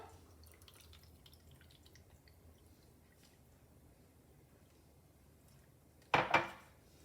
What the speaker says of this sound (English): Then we'll add 1 cup of water.